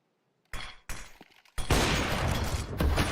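Gunfire from a competitive shooter video game, with two short bursts followed by a loud, sustained stretch of rapid shots and crackling impacts that runs to the end.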